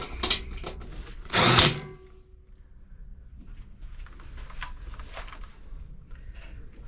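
A nut driver runs screws in during a motor blower replacement, with one loud, close whirring burst lasting about half a second, then quieter scraping and handling noises of parts being fitted.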